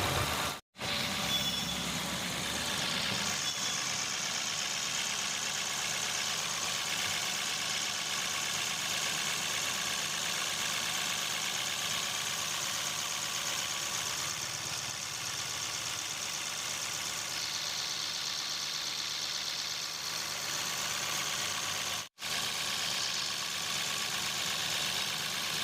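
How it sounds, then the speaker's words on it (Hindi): A freshly overhauled Mahindra TUV engine idles steadily in a continuous, even drone at close range, with a couple of very brief dropouts and no talking. "बाकी इंजन की साउंड तो आपके सुन कर ही पता लग रहा"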